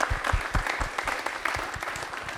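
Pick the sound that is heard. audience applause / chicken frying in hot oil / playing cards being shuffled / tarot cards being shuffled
audience applause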